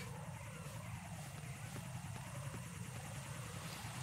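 Helicopter in the video game Metal Gear Solid 2, a continuous low rotor drone with rapid rhythmic chopping pulses, moderately loud and unbroken throughout, with no talking over it.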